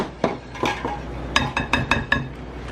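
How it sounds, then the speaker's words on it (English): Banana nut muffin batter is stirred in a bowl, with a series of clinking, scraping utensil strikes against the bowl, close and irregular, a few louder taps clustered toward the end. "And you start mixing it around."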